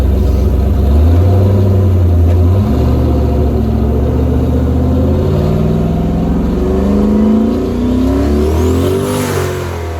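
A turbocharged 4.8 Foxbody Mustang engine revs loud and close under boost, its pitch dropping after a first held rev, then climbing in rising sweeps, falling back to wastegate pressure with a low boost cut.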